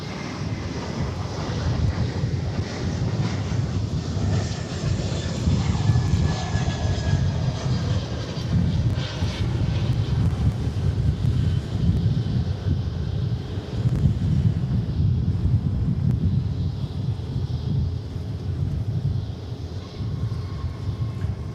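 An airliner arriving from Seattle at Dallas Fort Worth airport gives a steady, loud engine roar with a low rumble, heavy wind buffeting the microphone throughout, and no talking.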